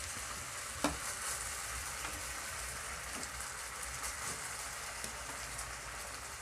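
Chhana (cottage cheese) cooking in a pan over low gas heat, a steady soft sizzle and crackle with a few light stirring clicks, close and continuous, no voices.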